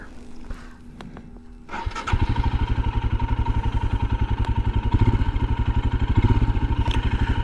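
A Royal Enfield Himalayan motorcycle engine starts on a cold day, catching after a brief crank and settling into a loud, steady, close thumping idle with a rhythmic single-cylinder pulse.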